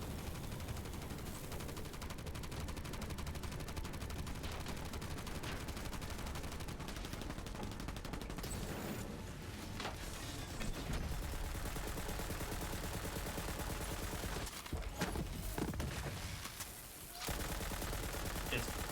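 Sustained automatic fire from a vehicle's gunner seat in the looter-shooter Borderlands 3, a dense, loud, continuous rattle of shots with a few brief dips and pauses, and voices faintly beneath it.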